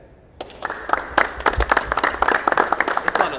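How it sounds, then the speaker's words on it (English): Light, scattered golf claps from a small group at basketball tryouts in Las Vegas, a steady patter of hand claps building after a brief quiet start. "The fucking golf claps in this bitch."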